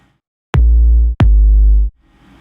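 Two synthesized kick drum hits built in Metrum, each a sharp click dropping into a long, deep booming tail of about 0.7 seconds, played back to back and loud with no talk.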